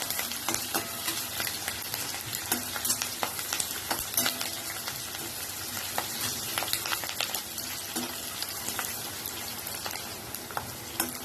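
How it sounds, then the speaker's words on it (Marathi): Ridge gourd stir-frying in a pan with asafoetida, a continuous close sizzle with frequent spatula scrapes and clicks scattered throughout. "थोडासा हिंग टाकणार आता मी ह्याला चांगले परतून घेणार"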